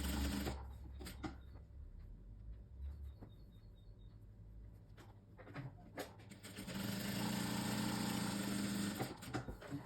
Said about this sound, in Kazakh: Мен екеуін бірдей тігіп жатырмын, сол үшін қазір екіншісін де тігіп алайын.